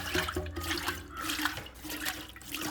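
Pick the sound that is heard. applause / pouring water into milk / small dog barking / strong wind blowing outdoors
pouring water into milk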